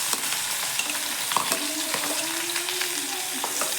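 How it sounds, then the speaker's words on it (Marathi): Onion fries in a couple of spoons of oil in a hot kadai, giving a dense, steady sizzle close by with occasional spatula scrapes and a faint whistling tone. "आता आपण याच्यात कांदा टाकून घेऊया"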